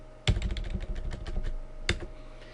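Fingers tap quickly on a computer keyboard in an irregular burst of crisp clicks, close and fairly loud, with a heavier key press near the start and another near the end.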